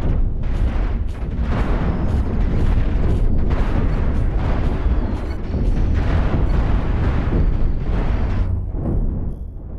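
Dense, continuous barrage of ship weapons fire and explosions from the space-combat game Cosmoteer, in a battle against pirate stations: loud overlapping booms and blasts rumbling steadily for about ten seconds with no pause.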